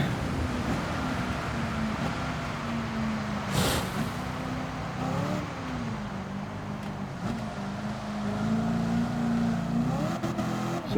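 A race car engine in Gran Turismo 7 runs at part throttle at Le Sarthe in a WTC700 race. The engine drones steadily for the whole stretch, with slight rises and dips in pitch as the revs shift.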